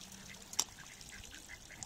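Ring-necked ducks on a spring pond in Elgin, Texas, give one faint, brief quack-like call against a quiet outdoor background.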